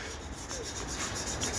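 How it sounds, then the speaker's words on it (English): Steady scraping and rubbing as paint is scuffed off thinner-soaked Jeep metal, a close, faint, continuous abrasive rasp with slight rhythmic pulses and no talking. "it keeps soaking into the metal and loosening the paint while I scuff it off"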